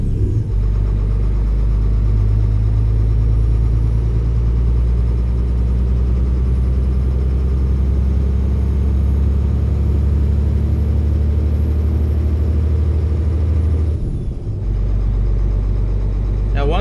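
Simulated truck engine in Euro Truck Simulator 2, running as a loud, steady low-pitched drone with a constant hum that briefly dips and shifts near the end before resuming.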